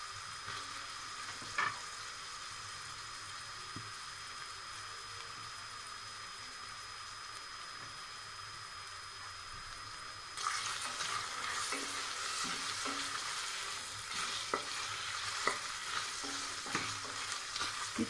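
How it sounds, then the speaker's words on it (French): Onion dropped into a hot pan, starting as a faint steady hiss that swells midway into louder, crackling sizzle with occasional stirring pops, close and continuous. "J'ajoute l'oignon."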